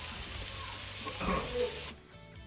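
Freshly chopped zucchini hisses steadily in a hot Presto electric skillet, a broad sizzle that holds for about two seconds and then drops off sharply to a faint background.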